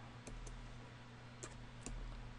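Faint, sparse key clicks from a computer keyboard, a handful of light taps spread unevenly over a steady background hum.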